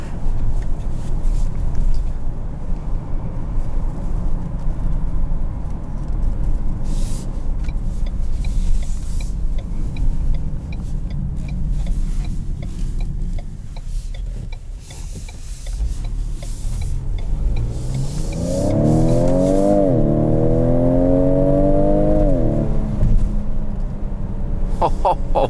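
A 2020 Ford Edge ST with its V6 under full acceleration, a loud sustained engine roar and road rumble from inside the cabin, rising as the revs climb toward the end.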